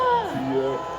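A rally crowd cheers and shouts together, with rising whoops and sustained voices blending into a loud, steady roar close by.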